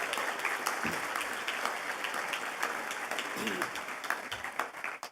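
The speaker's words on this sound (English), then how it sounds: "Please give them a big round of applause for supporting us tonight." Guests at an anniversary awards gala give a warm, continuous round of applause for the evening's sponsors, steady clapping from a full room that tapers off at the very end.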